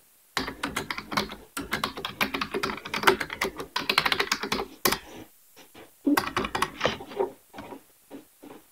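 Rapid bursts of keystrokes on a computer keyboard, close and fairly loud, clattering in uneven runs with a short pause midway before more typing resumes.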